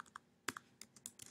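Quick, irregular clicks of computer keyboard keys being typed while adding text in the Pixlr image editor, a handful of close, crisp keystrokes with brief pauses between them.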